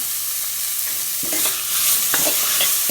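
Tomato and curry leaves sautéing in a hot pan, a loud, steady sizzle with a few scraping stirs near the end.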